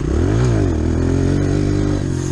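A rider revs a motorcycle hard while pulling a wheelie, the engine climbing and falling in pitch before settling into a loud, steady drone, close and without talk.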